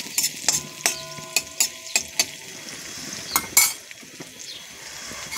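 Onion paste and bay leaves frying in a pan, with a low background sizzle under a run of evenly spaced metallic scrapes and clanks of a utensil stirring against the pan, then a few looser knocks.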